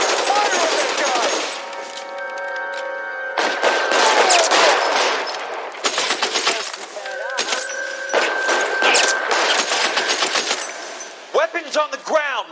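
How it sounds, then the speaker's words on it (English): Rapid bursts of automatic gunfire crack out in a shootout in the video game L.A. Noire. The volleys are loud, repeated and clattering, with short gaps between them, and voices shout over the shooting. "Somebody put fire on that guy!"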